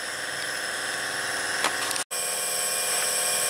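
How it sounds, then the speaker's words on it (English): Big air compressor for an arc air gouging tool runs steadily with a dense, even mechanical hum and whine, cutting out abruptly for a split second before resuming. "Gotta wait for the compressor to catch up."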